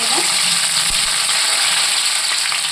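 Onions going into hot oil for chicken biryani give a steady, close broadband sizzle that holds evenly throughout, with faint clinks in the background.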